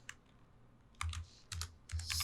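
A few soft, close clicks of typing on a computer keyboard, short clusters of keystrokes about half a second apart over faint background hum.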